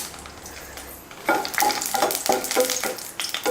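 Dried red chillies fry in a pan for chutney, a quiet lull giving way to bright crackling sizzle with several scraping stirs of a spoon against the pan, close and moderately loud.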